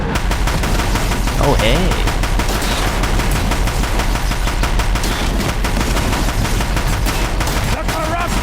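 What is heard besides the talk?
gunfire from a gun in the video game Horizon Zero Dawn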